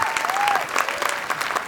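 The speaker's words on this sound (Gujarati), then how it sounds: "તાળીઓ થઈ જાય એક વખત લાલોની તુલસી માટે." Studio audience applause at a Gujarati comedy talk show: a steady, dense patter of clapping that stays fairly loud throughout, with a thin whistle-like tone drifting above it.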